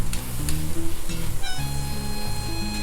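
Mushrooms with paprika powder sizzling in a pan for a chicken pie, a constant close hiss with occasional stirring scrapes.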